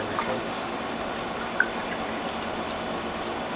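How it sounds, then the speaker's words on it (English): Vegetable juice made from Swiss chard, sorrel, beet and other vegetables pours steadily into bottles filled to the very top, a continuous close liquid trickle with one small clink midway. "I'm topping these bottles off to the very, very top so that no air can get in."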